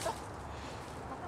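Hens shut inside a chicken tractor give a couple of brief, soft clucks, one at the start and one near the end, over quiet background with no talking.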